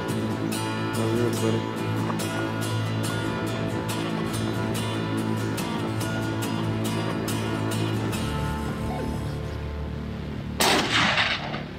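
A hunting rifle fires at a mountain reedbuck on a safari hillside, a single loud shot that booms and rolls away in a long echoing decay, followed by a brief burst of noise near the end.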